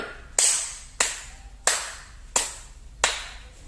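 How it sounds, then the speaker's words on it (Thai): Five distinct hand claps land in a regular rhythm in a movement-and-rhythm activity done on command, each clap close, sharp and isolated against near-silence, with short decaying tails between them. "ปรบมือห้าครั้ง"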